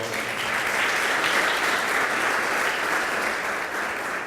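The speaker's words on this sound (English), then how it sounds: "Give them a round of applause." An audience at a partner luncheon gives a round of applause: sustained, even clapping from many hands, close and fairly loud, holding steady for several seconds before easing slightly at the end.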